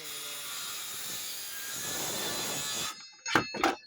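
A saw cuts the end off a piece of square wood at an 18-degree angle, giving a steady loud whining buzz that stops abruptly, followed by a couple of short knocks.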